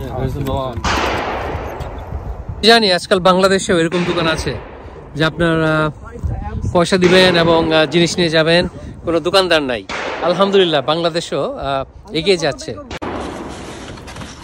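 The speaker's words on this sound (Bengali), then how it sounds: "এটা শুটিং রেঞ্জের গুলির শব্দ।" Gunfire from a shooting range rings out in sharp, distant reports behind someone speaking close to the microphone, partly masked by his steady talk.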